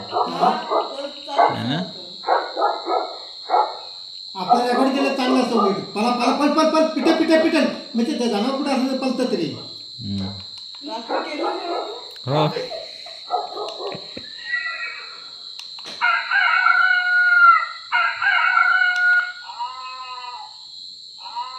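A loud farm megaphone device plays recorded barking and other animal calls over a steady electronic tone, in rapid repeated bursts, while people talk nearby.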